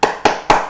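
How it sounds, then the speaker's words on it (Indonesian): Rhythmic group clapping in a classroom cheer called tepuk semangat: three sharp, loud, evenly spaced claps in quick succession, each decaying briefly before the next. "kita sama-sama tepuk semangat dengan semangat ya"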